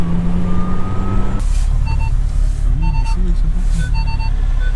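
A truck's reversing alarm beeps at a steady pace over a loud diesel engine rumble, with a hiss of air brakes.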